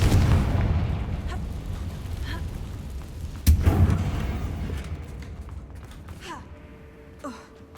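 A Confringo spell in the game Hogwarts Legacy erupts with a loud, booming blast that rolls off into a fading rumble, followed by smaller crackling debris noises.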